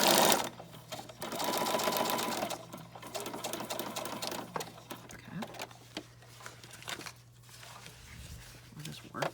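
Sewing machine stitching a fabric journal cover, a steady close motor whir in stretches with stops and restarts, while a person talks over it.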